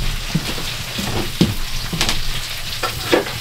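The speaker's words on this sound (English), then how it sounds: "Oh, it's just frying up perfectly." Meat sizzles steadily in a hot pan inside a hot tent while camping, a constant crackling hiss broken by occasional pops and scraping stirs.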